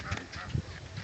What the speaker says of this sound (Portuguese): Vem, Davi, vem ver o pato.